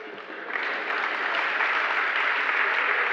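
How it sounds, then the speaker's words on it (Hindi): Audience at a religious discourse applauding, a steady wash of many hands clapping that holds at even strength for about three seconds with no voices on top. "तब भी तुम ताली बजा रहे हो।"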